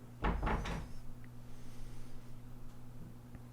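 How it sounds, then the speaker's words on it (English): A door swings shut with a few quick knocking thumps near the start, followed by quiet room tone with a steady electrical hum. "Close the door, please."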